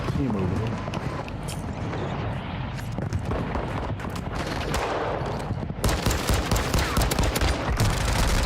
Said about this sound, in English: I don't know how the first shots weren't hitting that guy.